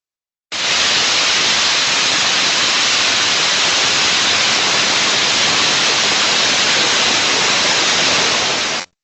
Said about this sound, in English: The dreaded steam leak,